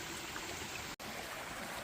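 Stover Creek flows along the Appalachian Trail in a steady, soft rushing wash of water. It is fairly quiet and broken by one brief dropout mid-clip, with no talking.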